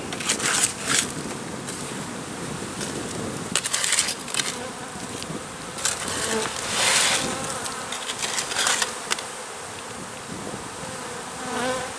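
Honeybees buzzing around an open hive during an early-spring inspection, with a steady close drone and scattered crackles and shuffling from handling the frames, and no one talking.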